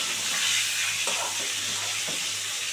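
Steady, close sizzling of pointed gourd (potol) pieces frying in a pan, a dense continuous hiss with small crackles and no talking.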